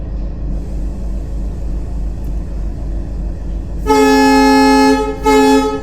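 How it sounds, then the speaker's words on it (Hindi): Railway train horn sounding in two loud, bright blasts, a long one followed by a shorter one, rising out of a low rumbling background. "रेल का हॉर्न सुनाई देना स्वाभाविक है।"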